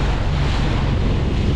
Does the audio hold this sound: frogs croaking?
no